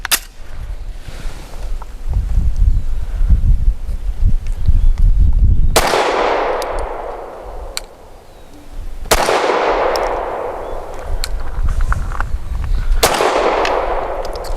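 Sig M17 pistol firing Blazer aluminum-case 115 grain ammunition, three sharp loud shots spaced a few seconds apart, each with a long ringing decay, following a stretch of low rumbling noise.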